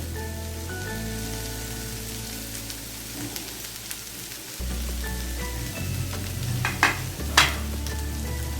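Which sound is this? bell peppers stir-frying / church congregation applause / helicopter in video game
bell peppers stir-frying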